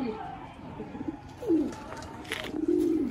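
Low golden pigeon coos sound close by, a couple of soft throaty calls over faint background noise and some chatter.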